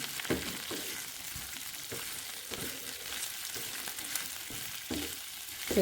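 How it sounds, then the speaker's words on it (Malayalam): Okra frying in oil makes a quiet, steady sizzle broken by regular pulses of stirring, rising slightly at the very end. "എണ്ണയിലിട്ടിട്ട് ഒരു മൂന്നാല് മിനിറ്റ് നമ്മൾ ജസ്റ്റ് ഇങ്ങനൊന്ന് ഫ്രൈ ചെയ്ത് എടുത്താൽ മാത്രം മതി"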